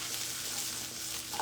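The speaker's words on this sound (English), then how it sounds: "Can you hear it sizzling?" Steady broadband hiss of food sizzling in a hot frying pan, continuous and close, with a faint clink near the end.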